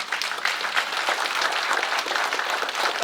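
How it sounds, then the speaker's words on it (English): Audience applause for veterans at a Cook County Assessor's Office residential appeal workshop, dense and loud continuous clapping from a crowd filling the room, steady throughout without talk. "let's give them a round of applause"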